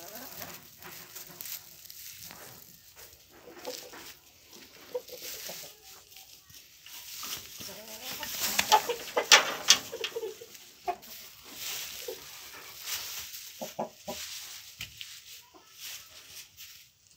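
An Aseel rooster clucks and scratches nearby, with soft intermittent clucks and rustling that rise into a busier stretch midway through, fairly quiet overall with faint background activity.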